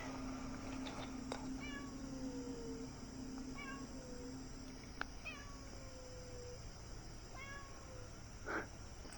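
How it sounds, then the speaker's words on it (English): An orange cat meows repeatedly in a quiet room, several short mews spaced a second or two apart against a faint steady hum. "It's just an orange cat sitting there"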